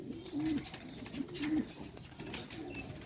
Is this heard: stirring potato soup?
no